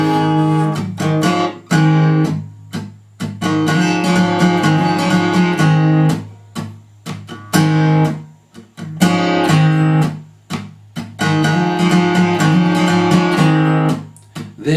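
An acoustic guitar strums the intro of a song in A, with loud rhythmic chord bursts separated by short choppy pauses, played alone and close.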